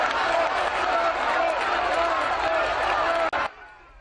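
Crowd gathered for the funeral procession at Franco's reburial, cheering and shouting continuously, loud and dense, with voices mixed in before the noise cuts off abruptly near the end.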